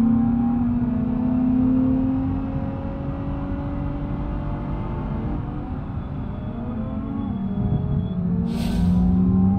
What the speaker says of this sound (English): These other vehicles are so loud.